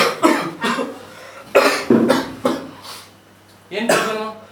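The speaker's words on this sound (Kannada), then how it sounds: "ಯಾಕೋ ಕೆಮ್ತಾನೆ ಇದೆಯಾ?" A man with a lingering cough coughs repeatedly, several harsh close bursts in irregular succession with short pauses between them, loud and clear.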